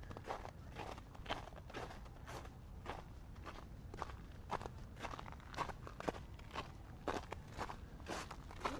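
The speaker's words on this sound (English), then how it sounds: "Little ASMR crunching on the ice." Steady footsteps crunch over ice on a winter walk toward downtown Toronto, each step a crisp, close crackle in an even rhythm of about two per second, with no talking over them.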